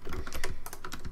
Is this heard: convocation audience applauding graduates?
no